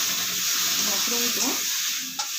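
Mushrooms fry in a pan with a steady bright sizzle and hiss, along with a few faint clinks of stirring and a soft knock near the end.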